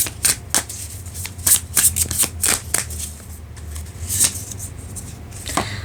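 Tarot cards are shuffled up close, a series of crisp riffling flicks and sharp card snaps in an irregular rhythm.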